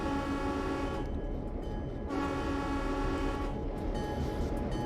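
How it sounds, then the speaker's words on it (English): Santa Fe F7 locomotive horn in Train Sim World 3, a sustained chord blast sounding alone over rumbling engine noise, with two short breaks between loud horn notes. "I do like that horn sound."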